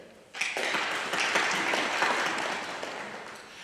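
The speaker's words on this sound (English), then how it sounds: "I'd like to pause for a minute so you can all give yourselves a round of applause and a pat on the back" Audience applause at a South University Columbia, SC gathering, a dense, steady wash of many hands clapping that swells in suddenly after a brief quiet start and holds strong throughout.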